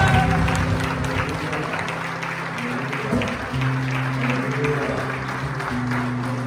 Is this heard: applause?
yes